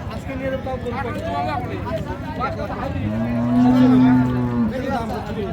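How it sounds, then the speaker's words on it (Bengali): A Friesian cow lets out one long, deep moo at the Raniganj cattle market in Dinajpur, rising over busy chatter as people talk nearby throughout. "পর্যাপ্ত পরিমাণ গরু আছে।"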